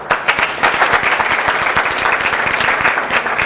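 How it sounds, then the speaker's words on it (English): Audience applause for the First Lady at a cancer forum on cervical, breast and prostate cancer in Africa, brisk close clapping with distinct individual claps, steady and fairly loud. "I think that deserves a round of applause."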